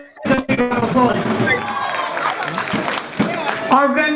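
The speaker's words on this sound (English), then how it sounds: "Give them a big round of applause." Crowd at an outdoor Eid al-Adha celebration claps and cheers, a lively burst of applause with shouts and whoops, fairly close and loud, with voices mixed in.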